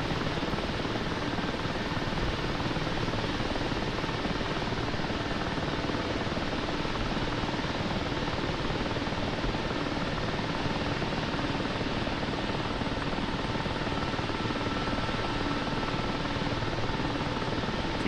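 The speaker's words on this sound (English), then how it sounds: "Really makes the helicopter gameplay a lot better." A continuous, loud helicopter rotor and engine drone from the video game DCS (Digital Combat Simulator), steady and unbroken throughout, with no speech.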